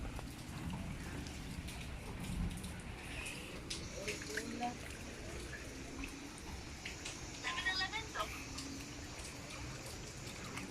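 Heavy rain falls steadily in the Davao uplands with a broad hiss and scattered drips, continuous throughout, with faint distant voices underneath.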